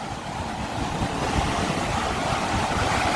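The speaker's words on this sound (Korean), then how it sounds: "그리고 파도가 높아가지고요." High sea waves surge near the Namdaecheon river mouth at Uljin, a loud continuous roar of surf mixed with wind buffeting the microphone.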